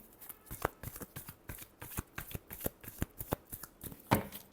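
Tarot cards being shuffled by hand, a quick run of crisp riffling and flicking bursts in an uneven rhythm, close and fairly quiet, with no talking.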